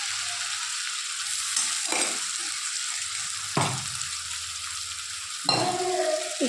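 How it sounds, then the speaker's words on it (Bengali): Spices with ginger fry and sizzle steadily in a pan while a utensil stirs through them, several distinct scraping strokes breaking the hiss, close and moderately loud, no talking. "একটু ভালো করে নাড়াচাড়া করবো, কারণ একটু ভেজে ভেজে নেবো।"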